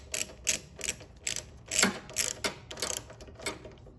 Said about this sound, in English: Here I'm just putting the carburetor back on. I'm doing just a regular 1/4 inch ratchet